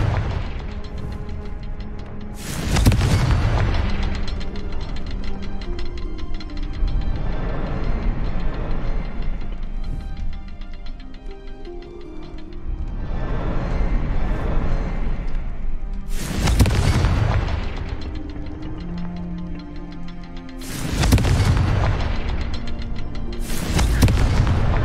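Several heavy Confringo spell explosions from the Hogwarts Legacy video game, cast in quick succession: loud booming blasts at irregular intervals over continuous game ambience and music, with no talk.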